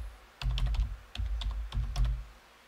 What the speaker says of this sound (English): I guess need to type it out